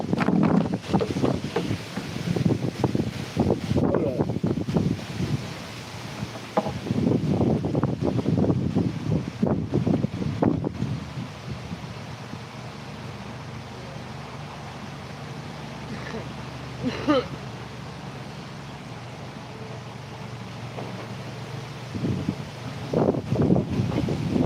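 Wind blows outdoors, buffeting the microphone in loud gusts and leaving a rushing roar between them, with a person talking over parts of it.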